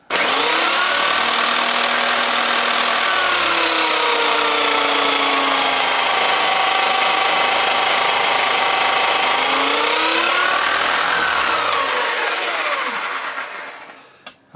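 A power drill spins a Subaru Impreza alternator with a freshly changed bearing for testing, a loud continuous whine and whir held at one speed for about twelve seconds before winding down to silence.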